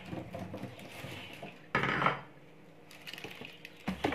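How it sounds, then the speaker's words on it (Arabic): Tomatoes set down onto a metal oven tray, a few clattering knocks and scrapes of metal and produce, loud bursts around the middle and end with quieter handling between. "دابا غادي نديرها في واحد لاطا ديال الفران"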